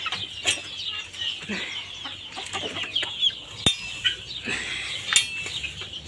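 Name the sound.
chickens clucking on a poultry farm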